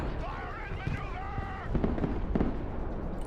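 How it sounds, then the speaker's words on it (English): Airstrike explosions in the Broken Arrow video game rumble as a string of muffled booms and crackling bursts under a steady layer of game noise. "Nice airstrikes."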